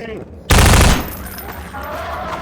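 Gunfire in the shooter Half-Life 2, an abrupt loud volley of rapid shots erupting for about half a second, then a lingering, quieter ringing rumble.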